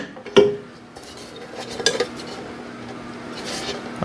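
Clattering handling of a Vevor bread maker's metal baking pan as it is set into the machine, with a sharp knock early on and a cluster of small metallic clinks midway, close and moderately loud.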